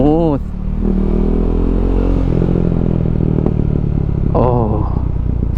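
KTM 390 Duke motorcycle with a new chain riding in first gear, a steady loud engine drone with rising and falling revs and a brief rev blip near the start and end, close-up with wind rumble.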